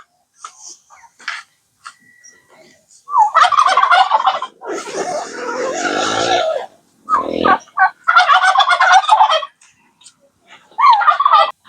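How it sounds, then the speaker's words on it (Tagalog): Loud, close bursts of turkey gobbling repeat with short pauses between them, several birds calling back and forth. "Ah, mga pabo. Sumalapit na sila sa amin, oh."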